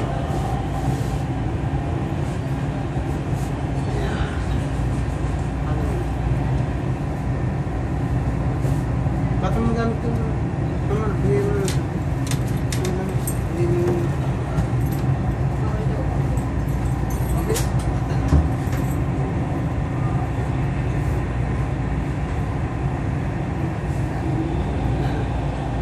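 A Dubai metro train runs with a continuous, loud, even rumble and hum throughout, with faint voices of passengers talking under the steady ride noise.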